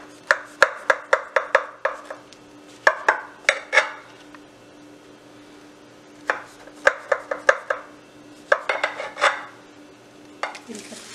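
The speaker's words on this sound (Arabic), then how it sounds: "هاجي بقى اقطع صينية الجلاش الأول قبل ما اسقيها" A knife cuts through a tray of layered, butter-brushed phyllo goulash, giving bursts of sharp crisp chops tapping against the metal pan, close and loud, in quick clusters separated by short pauses.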